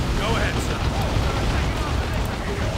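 Continuous low rumbling barrage of artillery-style booms and explosions from a D cannon in the strategy game Dawn of War 2 Retribution, dense and loud throughout, with a commentator's voice faintly under the battle noise.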